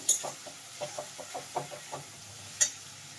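Spices for a Bengali vola fish curry are stirred and sautéed in a pan with tomatoes, giving a soft sizzle under a steady rhythm of light spoon scrapes and one sharper clink near the end.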